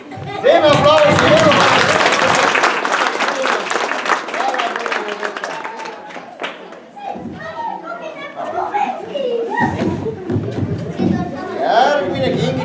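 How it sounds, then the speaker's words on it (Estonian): Audience applause at a children's Christmas rhyme event, loud sustained clapping from a room full of people, with children's voices and chatter mixed in throughout. "Teeme aplausi."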